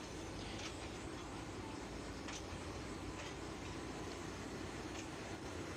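The Tista Express passenger train, number 707, runs near Gafargaon station toward Mymensingh, giving a faint, continuous rolling rumble with a few soft clicks of wheels on rails and no talking.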